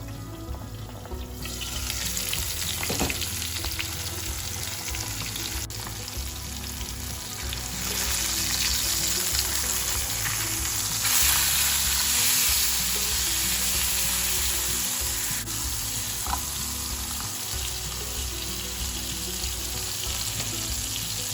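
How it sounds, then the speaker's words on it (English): Salmon fillets pan-searing in a hot pan give a steady, close, broad sizzle that swells louder partway through and holds, with occasional light clinks. "my salmon is cooking here nicely"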